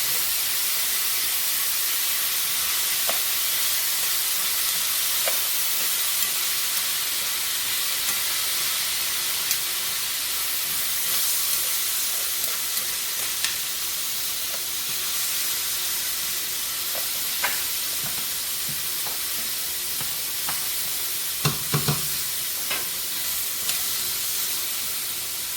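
Frozen green beans sizzle in a cast iron pan, a steady, even frying hiss lasting the whole time with small scattered pops and crackles and no talking.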